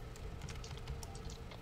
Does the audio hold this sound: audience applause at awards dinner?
no